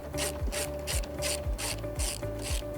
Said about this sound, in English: The last step for that is to remove these 2 8 millimeter bolts right here